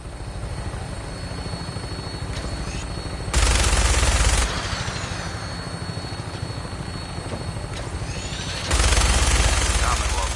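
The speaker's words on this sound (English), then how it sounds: "That minigun in front of you is loaded and ready to fire." Minigun mounted on a vertibird helicopter in Fallout 4 rattles in two sustained loud bursts over the steady whirring drone of the rotors.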